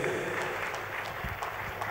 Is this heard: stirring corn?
no